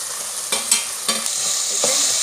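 Tomatoes, ginger and garlic frying in a pan for chana masala are stirred, with a steady hiss of sizzling and a few brief scraping strokes of the spoon, recorded close up with no talking.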